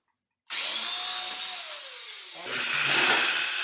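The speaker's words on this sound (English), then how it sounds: "and I will drill again" A power drill bores into a tile floor while raising a toilet flange, starting abruptly after a brief silence into a loud, close, continuous whine whose pitch drops as it bites in, then rises again with heavier grinding.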